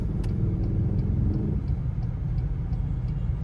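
Street traffic in Gapan City, busy with tricycles, comes through as a continuous low engine rumble and road noise, fairly close, with no talk.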